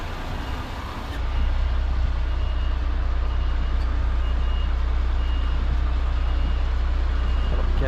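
A truck reversing off a busy road sounds steady, fast reversing beeps over a loud, constant engine rumble, close and continuous throughout.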